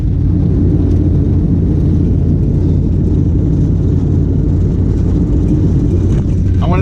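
Strong wind at McMurdo Station, Antarctica, blows as a loud, steady low roar and rumble that holds without letup.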